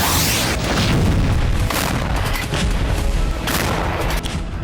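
Explosions from missile strikes in Ukraine captured in news footage, a loud, rumbling series of booms and cracks that overlap into a dense barrage and hit hardest near the start and midway.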